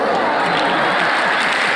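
An audience of notable guests applauds at a stage show, a dense, continuous wash of clapping at steady loudness with crowd murmur blended in.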